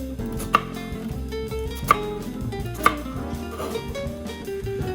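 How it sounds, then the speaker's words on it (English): Knife tip cutting an onion on a cutting board, with three distinct sharp taps spaced about a second apart over a steady background hum. "now I'm using the tip of my knife and completing the grid."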